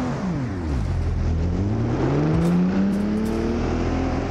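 A car engine in BeamNG.drive revs hard and continuously, its pitch climbing and shifting as the throttle rises, loud and close with a steady roar and no talking.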